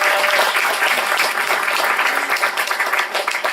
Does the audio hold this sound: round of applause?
yes